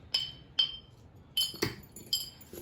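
A homemade wind chime, with wood striking a chain and a glass bottle, makes about five sharp, bright clinks at irregular intervals. They ring close and alone against a quiet background.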